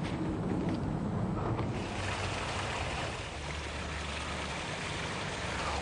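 Newly plugged-in garden pond water feature on a front lawn, running with a steady broadband rush of splashing water, fairly close and continuous, without talk.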